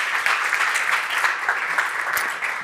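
An audience applauds a startup team on stage at a launch day event, with steady, dense clapping that holds at full volume from start to finish.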